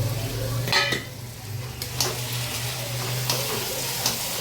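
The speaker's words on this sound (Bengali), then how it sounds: "মশলাটা একটু কষিয়ে নিই ভালো করে।" A spice paste of ginger, cumin, turmeric, chili powder and salt is stirred and fried in oil. There is a steady low sizzle, with a few sharp scrapes of a utensil against the pan and no voices.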